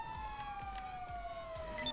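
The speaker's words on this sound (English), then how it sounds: "I hear an ambulance." An ambulance siren in GTA V Online wails steadily, with layered sweeping tones over a low repeating pulse, fairly close and with almost no talking.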